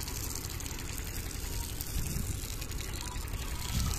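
Water poured to wet a freshly laid cement roof, a soft continuous trickling wash at low level with faint background hum, rising slightly near the end.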